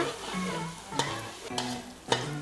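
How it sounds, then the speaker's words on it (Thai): Chopped garlic stir-fried in a pan for Thai egg fried rice, sizzling steadily while a utensil scrapes and taps the pan about three times, close by with no voices. "ผัดกระเทียมให้มีกลิ่นหอมนะคะ ให้เหลืองหอมห้ามไหม้นะคะ"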